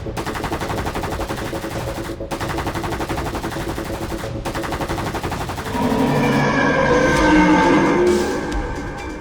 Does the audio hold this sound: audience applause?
no